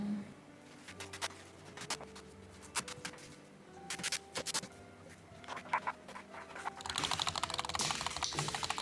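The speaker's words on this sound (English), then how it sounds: "I have washed my chives, so I'm just gonna be cutting them." Chives that have been washed are being cut with a knife, giving a run of light, quick chopping taps at close range that speed up into a dense patter near the end.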